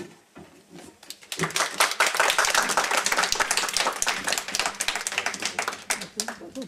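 After a reading of Robert Desnos poetry, an audience breaks into sustained, dense applause that begins after a short quiet moment, stays loud and steady, then thins slightly toward the end.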